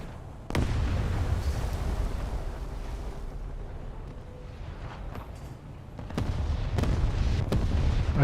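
Rockets fired from an SKR ship in a naval battle game land as heavy booms, one sharp blast early and a cluster near the end, over a constant wind-like rush.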